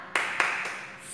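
A classroom group doing the rhythmic Indonesian 'tepuk semangat' clap, a few sharp, fairly close claps in quick succession, with a faint ringing tail afterward.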